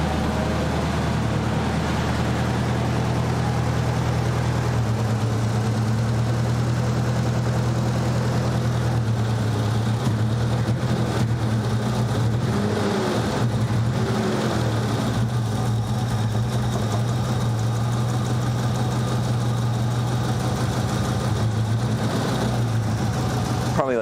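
A Nissan 200SX engine idles roughly in a garage, its steady low rumble rising and dipping as the revs surge, with people talking over it at times.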